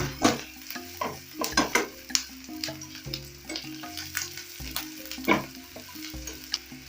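Ginger fries in a pan for a coconut fish curry, a soft sizzle under intermittent scraping and clinking as a utensil stirs it, with music-like tonal layers running beneath.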